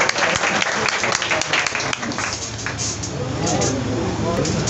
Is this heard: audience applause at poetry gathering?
yes